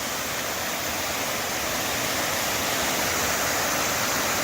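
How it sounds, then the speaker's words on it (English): Li'l MO Falls pours down steadily, a dense continuous roar of falling water heard close and loud with no breaks or voices. "See some water coming down over there."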